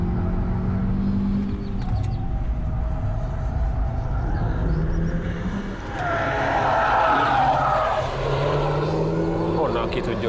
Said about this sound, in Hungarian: A kanyar végétől már ment a kigyorsítás szépen.